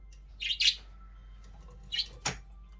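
Small pet birds chirp nearby in a cage in short bursts, a few bright tweets separated by pauses, over a low steady hum.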